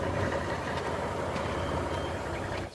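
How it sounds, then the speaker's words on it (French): A military truck's reversing alarm beeps repeatedly in a steady rhythm over a heavy diesel engine rumble, fairly close and loud, cutting off abruptly near the end. "Je vois deux jeeps et un camion."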